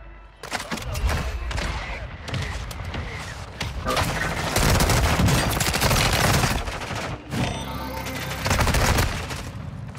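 Dense, continuous gunfire from the video game Warzone 2: rapid automatic bursts and loud shots overlapping for the full ten seconds, with no pauses between volleys.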